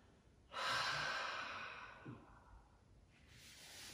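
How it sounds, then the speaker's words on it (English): A long, steady yoga breath taken during a gentle wake-up practice, heard close and soft, with a slow exhale that fades out and a fainter breath starting again near the end. "Few more breath cycles."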